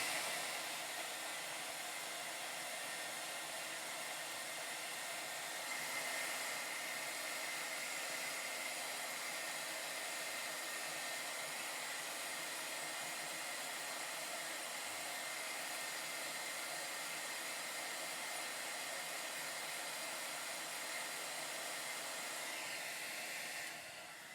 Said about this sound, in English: I'm just here blow drying my laptop.